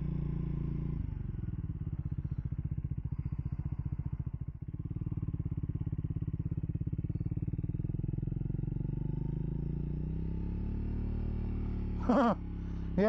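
A 2024 Triumph Speed 400 motorcycle idles and pulls a slow U-turn, its single-cylinder engine chugging in an even low pulse, then briefly revving with a rising whine near the end, close and loud, with no talk.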